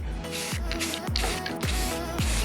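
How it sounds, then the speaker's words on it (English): Spray paint hissing onto a car grill in short repeated bursts, about four or five sprays with brief pauses between, close and fairly quiet. "Now I gotta get back to spray painting this grill here."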